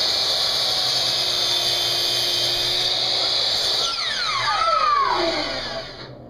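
A power saw runs at a loud, steady whine, then bites into a wooden board to trim it to length during sideboard restoration work, the pitch sweeping down as the blade loads and then trailing off at the end.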